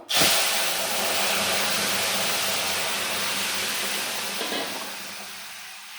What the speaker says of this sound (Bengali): এবার আমি ফোড়ন দিয়ে দেবো